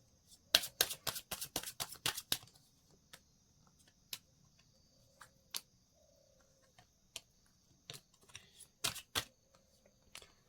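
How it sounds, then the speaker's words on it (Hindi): Tarot cards being drawn and handled give quick flurries of crisp, close slaps and flicks, then scattered single taps over a faint steady hiss, with no talking. "मैं पहले 5 कार्ड ले लेती हूँ"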